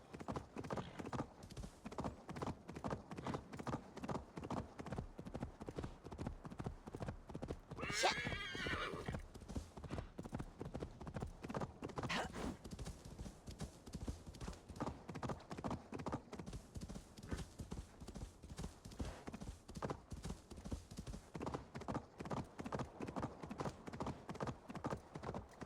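Horse in the video game Assassin's Creed Valhalla: a long run of steady, rhythmic hoofbeats clip-clopping throughout, with a loud whinny early on and another fainter neigh later.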